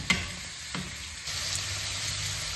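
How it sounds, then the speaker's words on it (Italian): Artichokes sizzle steadily as they brown in a pan, a soft continuous frying hiss with a couple of brief stirring clinks near the start. "andiamo a rigirare spesso i carciofi e li facciamo rosolare"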